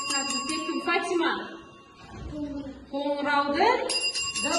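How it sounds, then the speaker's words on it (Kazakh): A small hand bell rings in a classroom, bright metallic tones sounding in a few short bursts with pauses between them, and children's voices mixed in underneath. "Қоңыраудың дыбысы."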